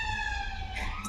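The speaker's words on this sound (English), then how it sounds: "always an ambulance goes off." An ambulance siren wails at steady volume through the whole moment, its tone sweeping in long rising and falling harmonic bands, moderately close and sounding alone with a low rumble of traffic beneath.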